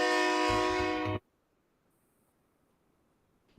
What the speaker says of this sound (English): That was a very angry Train.